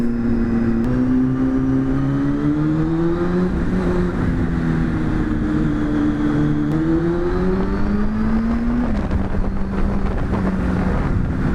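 A 1999 Honda Hornet 600 motorcycle engine revs up and down in repeated rising and falling pulls, loud and close, with wind buffeting the microphone and no talk.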